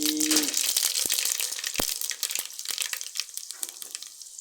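Mustard seeds and fenugreek fry in hot oil, giving a steady close crackle and sizzle scattered with sharp pops, fading gradually toward the end.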